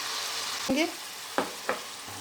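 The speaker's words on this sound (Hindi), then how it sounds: "अब हम चिकन डाल देंगे।" Small chicken pieces go into a hot pan with a steady sizzle, a few spoon scrapes and thuds cutting through, and a brief voice-like sound early on.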